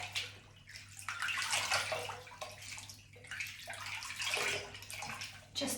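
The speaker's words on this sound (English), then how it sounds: "I'm just going to kind of dunk it in and out." Close sloshing and splashing of warm water as a human hair topper is dunked in and out of a basin, in irregular swishing pulses with dripping between, fairly quiet and with no voice.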